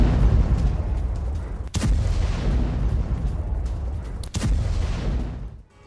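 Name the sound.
explosions at ammunition depot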